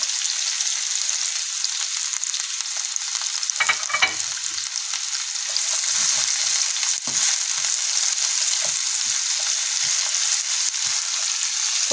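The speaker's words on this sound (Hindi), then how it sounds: "सबसे पहले डालेंगे शिमला मिर्च प्याज ये दोनों डाल लिए" Chopped capsicum and onion fry in an oiled pan, a steady close sizzle throughout with a few scraping stirs and soft utensil knocks, no talk.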